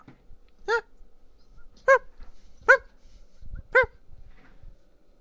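A dog barks four times in clear, evenly spaced single woofs, loud and close, with nothing else but faint background rustle.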